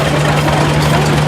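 A 1950 Minneapolis Moline Model U vintage tractor runs at a steady idle during a tractor show parade in Waterman: a loud, close, continuous low engine drone with a constant hum and slight rhythmic throb throughout.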